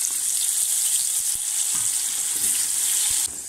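Raw jackfruit pieces frying in hot oil for Kerala-style jackfruit chips, a steady bright sizzle with small crackles, close and continuous, easing slightly at the end.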